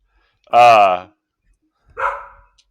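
Dogs barking at home: one loud, close, drawn-out bark followed by a shorter, fainter one after a brief pause, in otherwise quiet surroundings.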